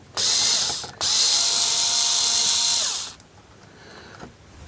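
A power screwdriver spins out small coarse-threaded screws from a Sony 9-306 television. It gives two loud, close, whirring bursts, briefly broken in between, then stops and leaves faint handling noises.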